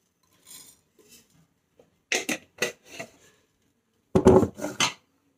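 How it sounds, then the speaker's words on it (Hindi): Whole coriander seeds dry roasting in a pan, heard as a few short bursts of rattling and scraping that are separated by quiet gaps, with no voice. "तो ये मैंने साबुत धनिया लिया है, इसे हम थोड़ा सा भून लेंगे"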